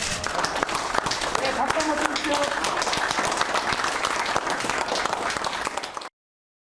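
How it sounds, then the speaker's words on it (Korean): A crowd applauding at a presidential inauguration-related press gathering, dense steady clapping for about six seconds before cutting off abruptly, with some voices mixed into the clapping. "박수 한번 주십시오"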